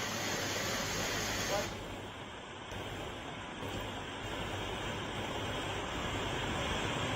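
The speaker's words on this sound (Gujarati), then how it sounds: "પ્રચંડ પાણીના પ્રવાહમાં પશુ તણાયો છે" Powerful floodwater surges at a check dam during heavy rain in Gujarat, making a continuous, loud broadband roar like crashing surf with wind-like hiss. A voice sounds faintly within the rushing noise.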